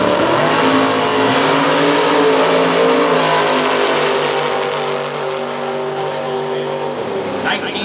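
A drag racing car from New Jersey races Dan Northrup's car down the strip, a loud rising engine roar that holds, then fades, with a sharp burst near the end.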